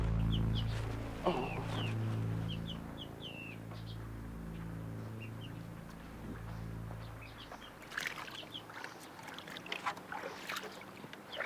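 Steady boat engine hum with water sloshing, faint bird calls above, and livelier splashing toward the end.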